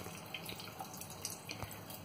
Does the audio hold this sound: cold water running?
yes